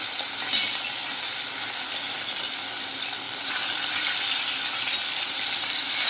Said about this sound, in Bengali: এপিঠ ওপিঠ উল্টে ভেজে নিলেই হবে